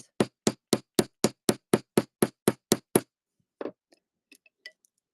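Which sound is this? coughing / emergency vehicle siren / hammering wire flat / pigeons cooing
hammering wire flat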